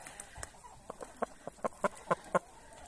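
A rooster clucks in a quickening series of short, sharp calls, growing louder toward the end, with faint village farmyard background noise.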